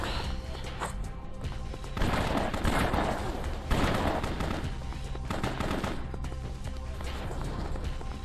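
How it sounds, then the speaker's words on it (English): Rapid gunfire fills the whole stretch of a BloodRayne video game shootout, dense bursts and volleys hammering on continuously with loud surges partway through. "If you stop shooting me."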